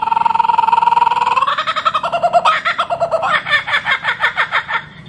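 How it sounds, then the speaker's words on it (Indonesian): A kookaburra calls loudly and alone, its voice climbing from a drawn-out rising note into a rapid, rhythmic run of cackling laughs that carries on for several seconds. "itu merupakan suara burung ini nih. Burung kokabura nih."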